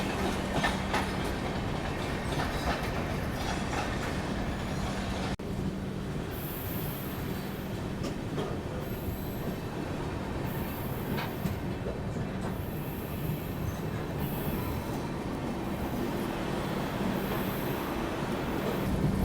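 A Duronto Express train rolls past Chilika Lake in Odisha, heard from on board as a steady rumble of wheels on rails with rhythmic clacking and recurring high-pitched wheel squeals.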